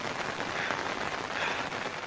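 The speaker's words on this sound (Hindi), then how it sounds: "और बारिश भी अच्छी खासी लगी है।" Steady rain falls at a mountain temple along a trekking trail near Palampur, a dense even hiss of drops close by with no voices.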